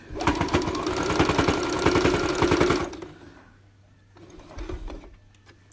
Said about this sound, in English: So we're gonna start with our first stitch and it's gonna back stitch.